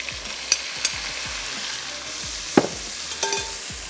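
Half the sliced onions for a smoked beef tikka biryani frying in hot oil, a steady broadband sizzle with scattered sharp clicks and a louder stirring clatter partway through; no one speaks.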